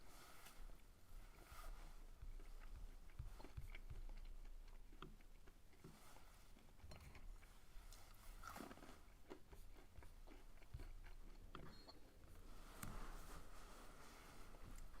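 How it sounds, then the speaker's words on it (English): Close, crunchy chewing of nuts: irregular clicks and crackles repeat steadily under a quiet, noisy background, with no voice. "I'm eating nuts, so please pardon my chewing noise."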